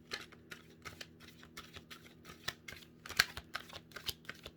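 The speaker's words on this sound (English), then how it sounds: "And I'm just finishing up here, shuffling away." Tarot cards being shuffled by hand during a reading, a quiet series of crisp riffling bursts and soft flicks repeating at an uneven rhythm, close and alone.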